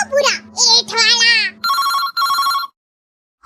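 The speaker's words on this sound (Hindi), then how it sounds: "ऑफिस से फोन कर रहा है।" A phone rings with an incoming call from the office: a voice talks over a low tone first, then two bursts of bright electronic ringing follow, a pause of silence, and a brief restart.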